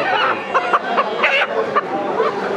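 Local country roosters at a fresh produce market give a quick series of loud, close clucks and short squawks in uneven bursts.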